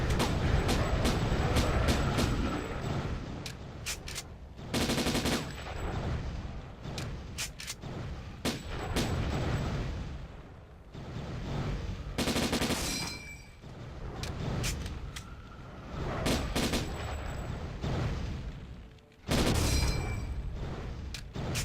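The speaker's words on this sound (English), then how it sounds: "so I might as well shoot these guys" Repeated gunfire and blasts from shooting enemies in a Doom mod, loud bursts of shots and booms recurring in clusters with brief pauses between volleys, no voices.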